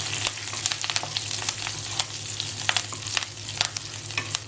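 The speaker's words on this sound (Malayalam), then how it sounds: "ഇനി ഇതിലേക്ക് നമുക്ക് 4 പച്ചമുളക് നീളത്തിൽ കീറിയതും 3 ഉണക്കമുളകും കൂടി ചേർത്ത് നന്നായിട്ട് മൂപ്പിക്കണം" Green chilies, dried chilies and curry leaves frying in oil in a pan while cooking Chicken 65, a steady close sizzle with crackling pops and occasional stirring scrapes.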